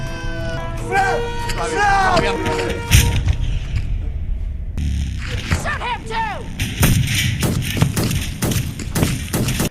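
Gunfire in a film scene where a robot is shot, heard as sharp repeated bangs and heavy thuds in a dense, loud mix, with voices and dramatic sound around them.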